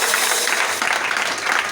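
A church congregation applauds, a dense, loud, continuous wash of clapping that fills the whole moment with no pause.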